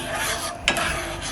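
A sugar and water syrup is stirred in a pot over rising heat, with a spoon scraping and swishing steadily and one brief louder clink near the middle.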